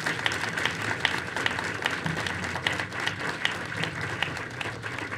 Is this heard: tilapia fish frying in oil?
no